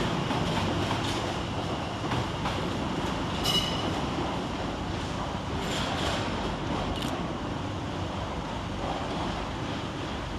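A London Overground train to Chingford pulls out of Liverpool Street station. The rumble under the station roof is steady and fairly loud, broken by a few brief high wheel squeals.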